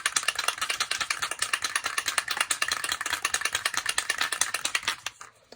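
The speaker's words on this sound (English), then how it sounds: "I'm going to shake up my" Rapid rattling of a spray adhesive can being shaken, a steady fast metallic clatter close by that stops abruptly at the end.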